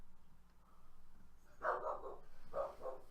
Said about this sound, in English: And that's just me dog.